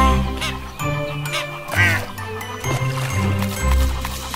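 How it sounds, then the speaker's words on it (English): Cartoonish duck quacks sound in a children's nursery-rhyme song about little ducks, several quacks spaced over bouncy music with bass and tinkling accents. "Mother duck said quack, quack, quack, quack"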